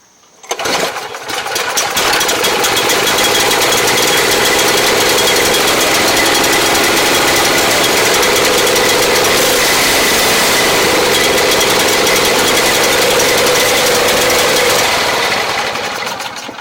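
A Snapper snow blower with a Briggs 824 engine starts up and runs steadily at a loud, close, continuous roar with its auger spinning, holding even for about fifteen seconds before easing slightly at the end.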